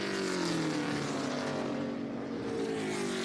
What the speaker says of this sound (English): Beautiful sound of these cars as well.